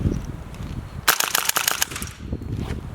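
Airsoft guns fire a rapid burst of sharp, close cracks lasting about a second, set against a low background rumble, with quieter scattered noises before and after.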